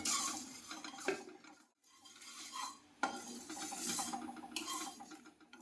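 Fennel, cumin and coriander seeds dry-roast in a pan, stirred with steady scraping and rattling, close and continuous, with a short pause midway.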